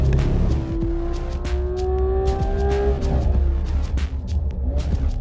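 A Porsche GT3 RS races on a track, its engine rising in pitch as it accelerates hard out of a corner, loud and close. A brief tire squeal comes with the wiggle of the rear, and a steady road rumble runs beneath it.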